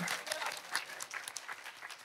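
A church congregation claps together in a quick, dense patter, fairly faint and distant, with the sound holding steady throughout.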